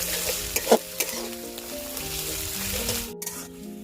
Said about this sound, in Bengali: এখন দিয়ে দেব রসুন আদা জিরা বাটা সব কিছু ভালোভাবে ভেজে নিব